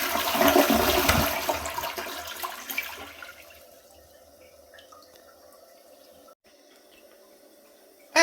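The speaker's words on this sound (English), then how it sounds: "Now we'll see an up close full flush." Full flush of an early-2010s Aquasource dual flush front-flush toilet recorded up close: a loud rushing surge for about three seconds, then a quieter trickling refill with faint drips, ending in a sudden loud clunk.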